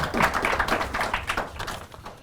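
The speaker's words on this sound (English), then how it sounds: "Let's give them all a big round of applause" A short burst of audience clapping at a panel discussion, many hands applauding together in a brisk, dense patter.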